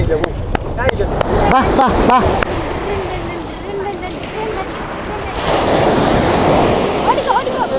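Sea waves wash at an estuary where a backwater meets the sea, a broad rushing surf that swells louder in the second half, with wind buffeting and clicking handling noise early on.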